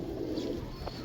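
A golden pigeon coos softly and close, low repeated murmurs over steady background noise, with no one talking.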